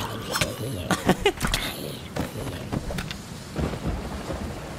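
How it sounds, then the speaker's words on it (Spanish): Rain patters steadily while sharp thunder cracks burst near the start, with voices talking over the storm. "está lloviendo"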